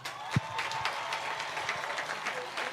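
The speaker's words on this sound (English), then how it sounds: "Let's appreciate him with a hand clap." An audience applauds at a school spoken-word performance event: steady, dense clapping that continues unbroken across the whole stretch, with no voices on top.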